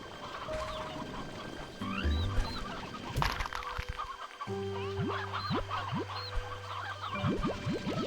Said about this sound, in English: I have a lot of chickens in here.